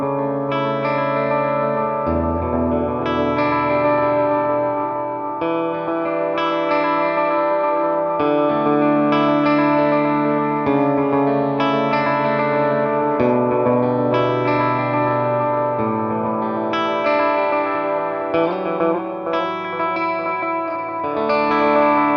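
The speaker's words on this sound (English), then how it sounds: "So this is feeding delay A into delay B." An EarthQuaker Devices Disaster Transport SR delay pedal runs two delays in series, so played guitar notes repeat into washy, lush echoes. It plays steadily and alone, with no talk.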